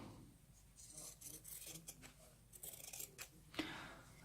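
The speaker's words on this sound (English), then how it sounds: "And then I'm going to get my wavy scissors." Wavy-edged scissors snip through fabric for a Tilda doll, a series of close, crisp cutting crunches and rustles repeating irregularly with brief pauses between strokes.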